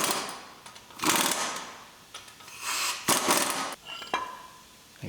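Bolting a new hub onto the knuckle of a C7 Corvette, with bursts of impact tool rattling and metallic clanks of tools and parts, close and intermittent.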